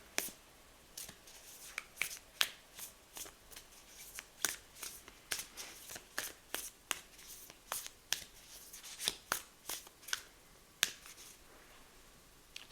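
Tarot cards shuffled and slapped down at close range, a fast irregular run of crisp riffles and flicks lasting the whole stretch, with no talking over them.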